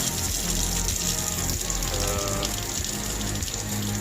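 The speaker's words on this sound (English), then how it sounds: "Okay, so drain the potatoes." Water gushes and splashes steadily as boiled potatoes are drained, a continuous close pouring rush with no talk over it.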